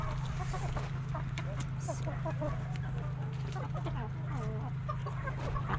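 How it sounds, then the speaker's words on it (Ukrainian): Hens and a rooster cluck continuously nearby over a steady low hum, with occasional higher squawks. "Бачите, стоїть курочка і півник разом."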